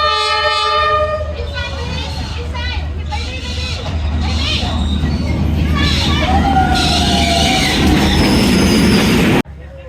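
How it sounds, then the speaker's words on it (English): A train rolls slowly along Hanoi's narrow train street, sounding a loud horn blast before its heavy rumble and clatter passes close by, with crowd chatter and voices throughout. "There goes the train."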